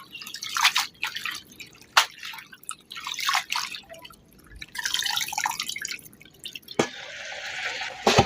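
Fresh spinach leaves are rinsed under running tap water, producing irregular bursts of splashing and dripping that surge and pause, close and fairly loud.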